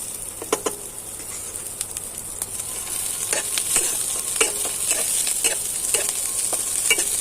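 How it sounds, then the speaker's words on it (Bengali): Onion sizzles in hot oil in a pan, a steady crackling hiss with sharp spattering pops. The frying grows a little louder partway through and stays close, with no talk over it. "তেলটা গরম হচ্ছে, এবার আমি পেঁয়াজটা দিয়ে দিলাম।"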